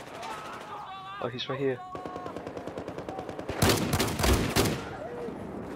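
Shotgun fire in Battlefield 4 lands as a tight cluster of loud, sharp blasts near the end, after a stretch of quieter game sounds, with a player talking in the middle.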